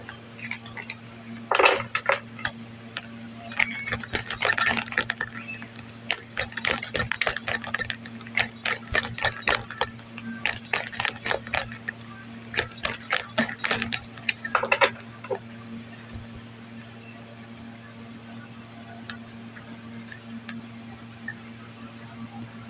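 Tarot cards are shuffled close by in irregular bursts of quick riffling clicks and flutters, pausing between rounds over a faint steady hum, no talking.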